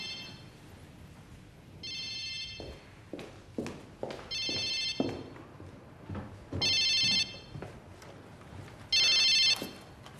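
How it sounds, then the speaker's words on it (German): A telephone bell rings four times in a steady rhythm inside a room, each ring bright and clear. Faint footsteps and soft movement fill the gaps between rings, with nobody speaking. "Ist das Ihr Telefon?"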